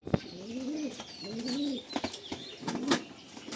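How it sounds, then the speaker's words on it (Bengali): A Punjabi cargo pigeon cooing close by in two or three rolling, throaty phrases, with a few sharp clicks and faint background chirps. "এটা একটা মালবাহী পায়রা, পাঞ্জাবি মালবাহী"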